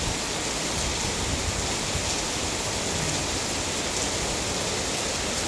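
Heavy rain pouring down hard and steadily, a dense unbroken hiss filling the whole span, with no voices over it.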